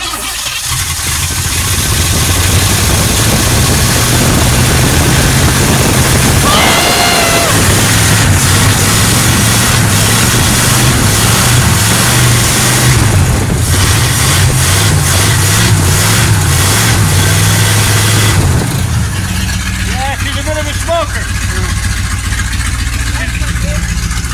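A flood-damaged 1970 Chevelle small-block V8 from Florida runs loudly for a long stretch, a steady rough idle with a few revs, while people talk over it.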